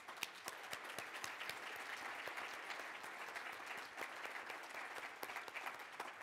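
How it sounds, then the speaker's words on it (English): Steady applause from a conference audience at a women's bicycling forum closing plenary, many hands clapping in a continuous roar with crisp individual claps popping out, fairly distant and even. "so a round of applause to League staff"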